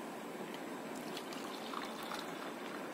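Homemade ginger tea pours into cups in a steady, faint trickle that runs unbroken for the few seconds, close by and with no talk over it.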